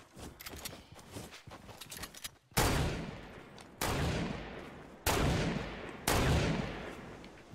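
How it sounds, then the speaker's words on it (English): Gunfire in Fortnite Battle Royale: a flurry of faint distant shots, then four loud, sharp, evenly spaced blasts close by, each with a short decaying tail. "I wish he would stop shooting."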